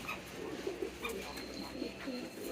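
Racing homer pigeons cooing in soft, repeated low murmurs that run steadily through the short stretch, fairly faint and close by with light background noise.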